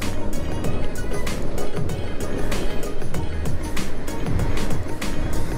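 A Sondors Metacycle electric motorcycle at full throttle on a freeway, heard as a loud, steady roar of wind buffeting and road noise with a faint whine underneath and no pauses.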